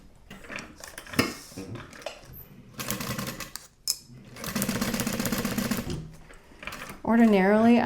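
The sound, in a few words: sewing machine basting duffel bag layers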